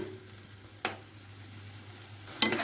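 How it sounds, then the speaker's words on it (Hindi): A breakfast dish cooking over a stove flame and stirred now and then with a spoon: a quiet, steady low burner hum broken by two short, sharp spoon knocks against the pan. "साथ में हम इसमें चम्मच चलाते जाएंगे वक्फे वक्फे से"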